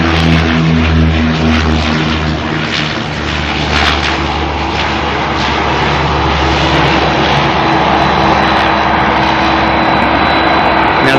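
A Dash 8 turboprop inbound from Whangarei to Auckland Airport gives a loud, steady propeller drone with throbbing low tones and a hissing engine wash that holds through the whole stretch, with no voices.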